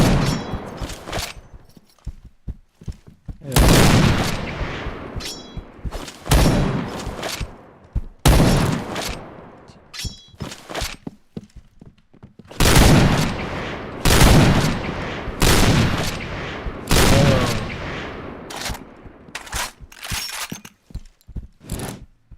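Loud video game gunfire, rapid bursts of automatic fire and single shots recurring steadily throughout, close and dominant, with no talk over it.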